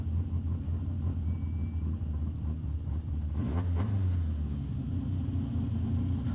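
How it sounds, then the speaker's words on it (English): A race car's engine at Laguna Seca rumbles steadily as it drives onto a trailer, with a brief rise in revs midway and no voices. "I'm going to drive it onto the trailer"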